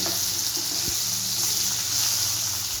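Potato pieces frying in hot oil in a pan for a Bengali fish curry: a constant close hiss and crackle of bubbling oil with a few soft clinks underneath, cutting off abruptly at the end.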